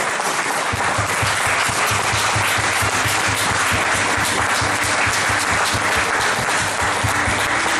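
Church congregation applauding at a French-language sermon, dense sustained clapping from many people filling the space loudly and evenly throughout.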